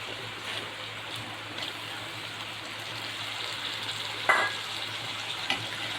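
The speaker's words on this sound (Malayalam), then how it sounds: "തക്കാളി നമുക്കൊന്ന് നന്നായിട്ട് വഴറ്റിയെടുക്കണം" Chopped tomatoes sautéing in a pan, a soft steady sizzle with a low hum beneath and a couple of brief clinks of a utensil.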